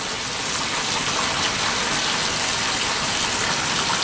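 Water gushes steadily into a Laundry Alternative Superpop washing machine, a loud, close, continuous rushing hiss with no voices over it.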